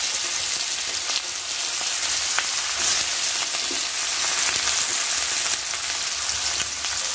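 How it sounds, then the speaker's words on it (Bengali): Onions fry in a pan, a close, steady hiss and crackle of hot oil running throughout, broken by a few sharp spatula taps and stirring clicks. "এইবারে দিয়ে দেবো পেঁয়াজ।"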